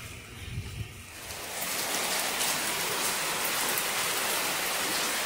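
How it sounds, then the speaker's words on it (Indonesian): Steady rain pours down on a Friday in Mecca, a dense, even hiss that swells after the first second and then holds loud and continuous with no voices. "Hari Jumat yang berkah diturunkan hujan oleh Allah yang kuasa."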